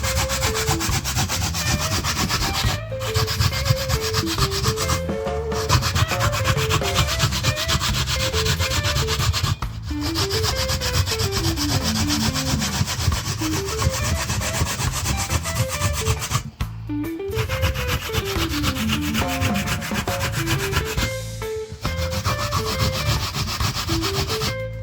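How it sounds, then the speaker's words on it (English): Coconut is grated on a hand grater brought from Jamaica, used in making Jamaican coconut toto: steady rhythmic rasping strokes scrape on and on, close and loud, with music playing underneath and no talking. "So I'm going to start grating my coconut now."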